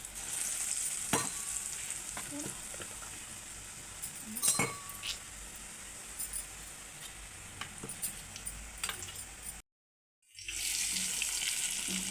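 Bread bondas fry in preheated hot oil, a steady broadband sizzle with occasional metal clinks of a utensil turning them slowly; the hiss drops out briefly near the end and then resumes.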